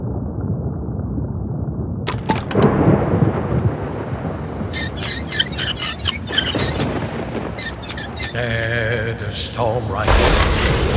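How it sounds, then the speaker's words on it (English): Thunderstorm at sea in a fishing video game, with sharp thunder cracks and booming rolls over steady roaring wind and waves, loud and close, while a voice narrates throughout. "Storm right around me, the ocean going mad."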